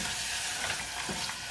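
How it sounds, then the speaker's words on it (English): Onions and garlic frying in a pan, cooking down to release their liquid before caramelizing, giving a steady, dense sizzle up close with no talk. "right now we're just cooking it until all the liquid is out of the onions and start to caramelize"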